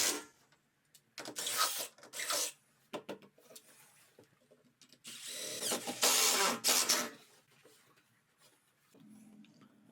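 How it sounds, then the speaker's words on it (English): Big screws driven by a power drill into wooden studs while building a media wall, heard as several bursts of whirring and ratcheting separated by short pauses, close and fairly loud. "I'm driving in here with some nice big screws just to make sure that everything's nice and secure."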